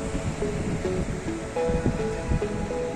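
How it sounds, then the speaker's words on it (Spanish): Ebro river floodwater surging along a flooded riverside promenade, making waves: a steady, loud rushing wash with broadband churning and no voices. "El agua, ¿eh? Cómo va por el paseo. Hace olas y todo."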